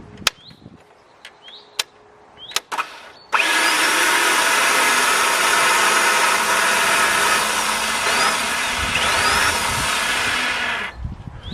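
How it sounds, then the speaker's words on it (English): Audi TT starter motor whirs loudly and steadily for about eight seconds, spinning without engaging the engine, preceded by a few sharp clicks and knocks and ending abruptly. "you heard the starter motor there, but it didn't sound like it engaged"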